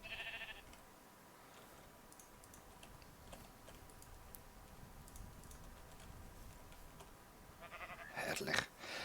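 In the video game Terra Firma Punk, a sheep bleats briefly near the start and again near the end, loud and close, with keyboard typing and someone talking quietly in between.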